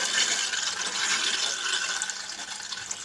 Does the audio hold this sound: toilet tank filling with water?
yes